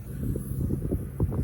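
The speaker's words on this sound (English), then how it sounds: "The wind's blowing 25 to 30." Strong wind at 25 to 30 roars steadily into the microphone on a cold Maryland farm, a low rumbling buffet with gusts that swell and fall throughout.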